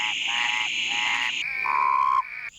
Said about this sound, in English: Male frogs and toads attract their mates by singing.